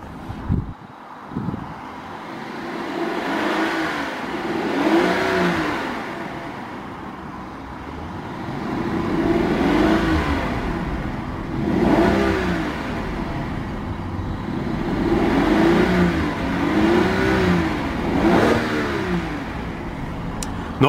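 2014 Rolls-Royce Ghost engine rumbling through its exhaust, rising and falling in several repeated revs, a steady smooth drone heard close with no talking.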